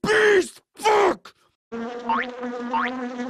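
Loud insect-like buzzing of bees in a Donkey Kong video game drones steadily with rising whines, preceded by two short bursts of harsh electronic noise and a brief silence.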